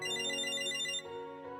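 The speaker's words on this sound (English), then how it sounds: "No, a phone call?" A phone ringtone chimes in the Date A Live video game, a bright melodic electronic tone held for about a second, then softer repeating pulses, alone with no voices.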